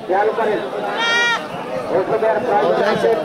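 A goat lets out one wavering, nasal bleat at a busy local goat market, over steady crowd chatter and voices nearby.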